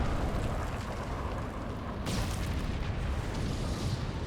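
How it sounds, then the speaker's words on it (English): Nuclear missile detonation in a StarCraft II pro match: a dense, continuous roaring rumble with a sharper burst midway, loud and sustained throughout, with no voices. "A defensive nuke to zone this out."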